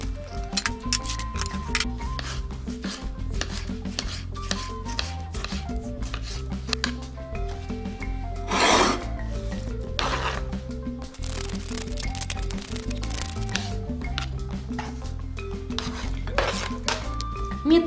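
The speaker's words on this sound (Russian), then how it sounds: "И я буду крошить помидоры." A knife cuts about 700 grams of tomatoes into quarters on a board. Repeated crisp chops and taps come at an irregular pace, close and fairly loud, with occasional knocks and light handling noise between cuts.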